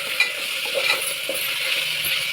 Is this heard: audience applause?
no